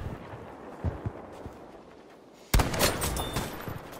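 Battlefield gunfire crackles through the game's low background noise, with a few soft shots early and then a loud, sudden burst near the end followed by a sustained stretch of rapid shooting.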